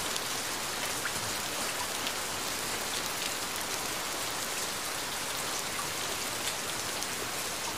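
Steady, dense rain falls and patters on surfaces, an even hiss that is close and constant throughout, with no thunder and no voices.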